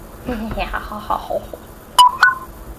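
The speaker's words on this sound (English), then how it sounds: "Notification!" A short two-tone phone notification chime rings out clearly after a stretch of soft talking, two bright beeps in quick succession, near and distinct.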